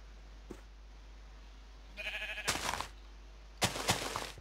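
Sheep in a Terraria-style crafting video game give short bleats, a brief faint one early then two louder wavering bleats near the end, with no talk.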